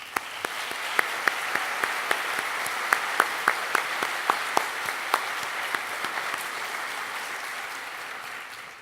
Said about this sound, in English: Please join me in a heartfelt round of applause for that group